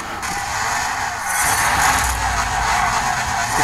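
Car racing in the video game Need For Speed Most Wanted, an engine roaring under a bright, hissing tire skid that swells louder midway and holds, with no talk over it.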